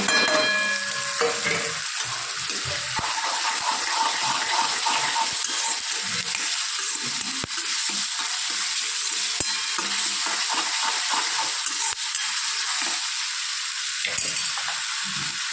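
Steady loud sizzling of onion and garlic frying in a pan before tomatoes are added, with occasional stirring scrapes, continuous and close, no voices.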